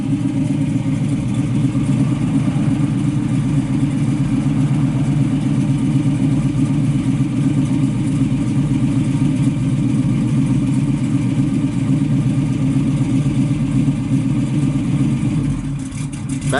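A 1968 Chevrolet Camaro RS with a 350 engine, Hooker headers into dual Flowmaster exhausts, idles with a deep, lumpy rumble, loud and close, holding steady before a brief blip of throttle at the end.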